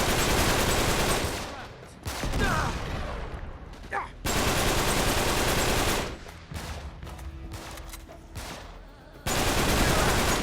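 Rapid bursts of video-game gunfire from enemies shooting at the player, loud and dense, in clusters separated by brief quieter gaps with faint background sounds.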